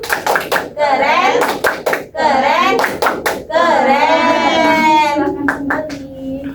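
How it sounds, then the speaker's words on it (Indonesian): A class of children performs a rhythmic 'tepuk keren' clap in a classroom, sharp unison hand claps in short bursts between stretches of the kids chanting together loudly. "Kita kasih tepuk keren untuk Nak Hanafi ya. Tepuk keren."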